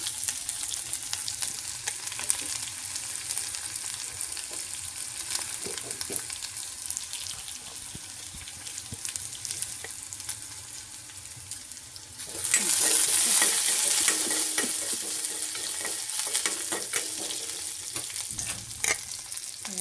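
Ajwain, dried red chillies and garlic frying in hot oil in a kadai, a steady close sizzle with stirring scrapes, swelling louder partway through as more ingredients hit the pan.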